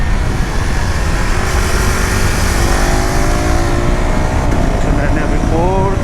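A 2026 KTM Duke 390 motorcycle engine buzzes steadily while riding, with rising and falling revs as the quick-shifter drops a gear without the clutch, close and loud under someone talking.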